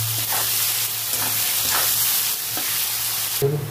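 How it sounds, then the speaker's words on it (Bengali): Onions fry in oil with green chilies and salt, a continuous close sizzle with soft stirring scrapes running throughout and a brief clink at the end. "ভালোভাবে পেঁয়াজটা ভেজে নেব"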